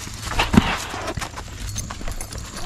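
Hooves of a ridden mare clip-clopping on a farm, steady and fairly close, with a faint background hum and no talk.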